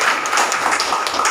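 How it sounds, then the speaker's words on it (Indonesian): Audience applause at a training session for election polling-station witnesses, a dense, steady wash of many hands clapping, fairly close and unbroken for the whole short stretch. "Tepuk tangan untuk Bapak Ibu sekalian"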